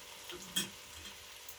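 Okra frying in a pan with gram flour as it is stirred in, a soft steady sizzle with one brief louder scrape or stir partway through, close and quiet.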